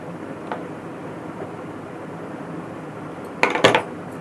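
Tailoring scissors snip through fabric while piping is trimmed at the corner of a square neckline: a faint snip early on, then two or three crisp, close cuts near the end, with no voices.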